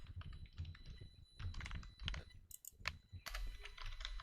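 Quick, uneven clatter of computer keyboard keys being typed while writing C++ code, close and fairly quiet, with irregular bursts of keystrokes.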